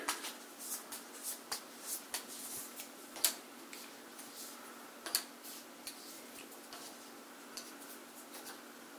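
Quiet, irregular riffling and tapping of playing cards being shuffled for the board game Wrath of Ashardalon, soft and close, with occasional sharper clicks.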